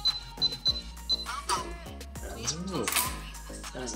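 A smart security door lock keypad with fingerprint reader and three-bolt automatic locking gives a quick series of short, high electronic beeps as a PIN is entered, followed by someone talking close by.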